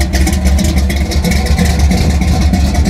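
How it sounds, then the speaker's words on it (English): Exhaust from the side pipes of an SC/Rambler gasser car rumbles loudly and close, a steady deep idle with rapid pulsing and slight throttle rises, no voices. "Here's the exhaust coming out the side."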